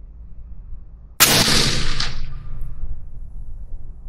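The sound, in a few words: Winchester .308 rifle shot, Christensen Arms MPP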